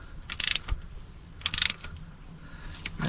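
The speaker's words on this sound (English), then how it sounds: "This is a 1/2 inch ratchet." A 1/2 inch ratchet clicks against a fastener on an old skid steer, two short bursts of rapid close ratcheting separated by a pause, with a fainter click near the end.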